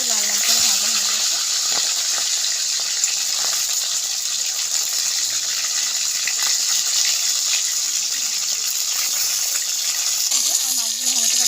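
Pieces of katla fish frying in oil produce a continuous, loud, watery sizzle with small pops scattered through it, and faint talk can be heard in the background.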